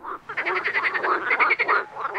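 Frogs croak in a dense, rhythmic chorus of quick repeated pulses that carries on steadily throughout, with no talking.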